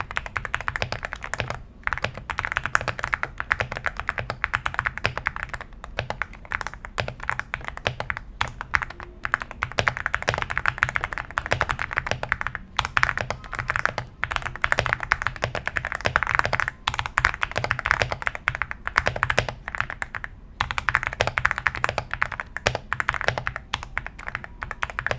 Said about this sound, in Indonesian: buat kalian yang pengen dengar suara typing testnya